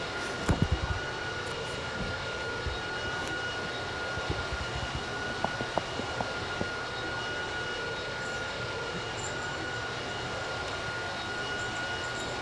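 A steady aircraft engine drones in a flight video game, an even, continuous hum that holds at the same level throughout with no talking.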